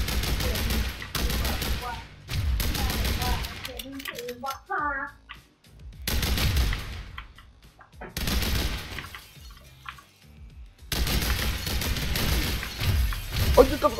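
Bursts of sprayed bullets from gameplay in The Hong Kong Massacre arrive in several loud clusters, separated by brief quieter gaps, with a voice talking throughout.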